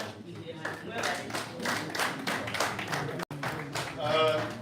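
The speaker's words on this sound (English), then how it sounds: "Please, another clap." An audience at a Conservation Through Public Health event claps in a steady rhythmic beat, moderately close, while a person keeps talking over it.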